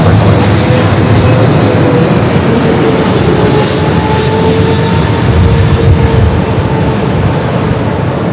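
Loud, steady roar of a Boeing 777 jet airliner on short final at Los Angeles International Airport, close and continuous with a faint whining tone running through the rumble.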